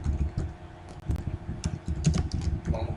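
Typing on a computer keyboard while filling in an online admission form, with quick irregular key clicks in bursts and a few louder taps, close up.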